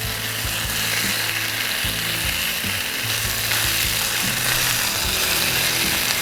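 Bison and garlic being stir-fried in a hot pan give a loud, steady sizzle, with rattling scrapes and clanks as a utensil keeps shifting the pieces around. No talking is heard.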